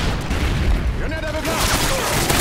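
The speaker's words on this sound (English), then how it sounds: "Grenade aveuglante." A flashbang grenade goes off in the game Resistance during a team deathmatch: a loud, dense burst with a ringing high whine trailing after it, over continuous noisy battle ambience.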